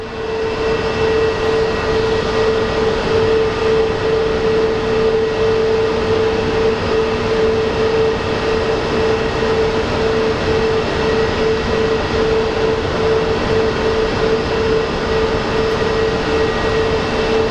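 An airplane landing at Phoenix Sky Harbor International Airport produces a loud, steady roar with a sustained engine hum that holds evenly for the full length, with no voices.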